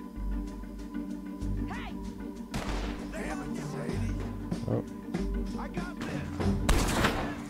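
Gunfire from the video game Red Dead Redemption 2, heard as a run of sharp shots and a heavy burst near the end, layered over game music and ambient noise.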